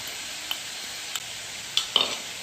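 Crushed green chilies are dropped into a curry of chicken and chickpeas and stirred, making a soft, steady sizzle with a few light scrapes and clinks of a spoon against the pot, close by and without speech.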